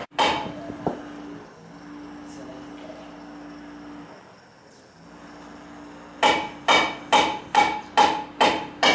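Roughly seven heavy, evenly spaced hammer blows ring out close by near the end, striking during a Land Rover repair in the Kalahari after a quieter stretch of low hum.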